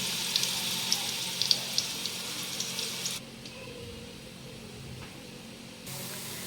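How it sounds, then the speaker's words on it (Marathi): Onion cooks in oil in a pot with a soft, steady sizzle, crackling with faint pops at first and then dropping to a quieter hiss partway through. "ह्या पातेल्यामध्ये मी आता तेल टाकलं आहे आणि कांदा परतायला ठेवला आहे"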